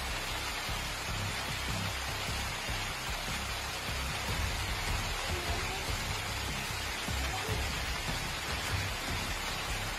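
A dense, steady roar of heavy rain mixed with hail pounding surfaces in Baguio, Philippines, with constant close patter and no pauses.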